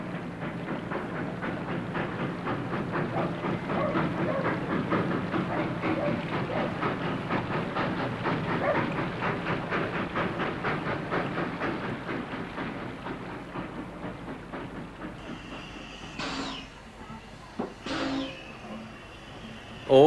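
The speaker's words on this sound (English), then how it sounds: "most people could only sample live steam on the narrow gauge, and that would mean a trip to Durango in Colorado" Narrow gauge steam train in Durango, Colorado, a steady rolling rumble with rhythmic clickety-clack that fades toward the end, followed by a couple of short sharp hissing bursts.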